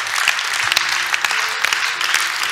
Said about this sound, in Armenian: Եկեք բարձր ծափահարենք Տիրոջը։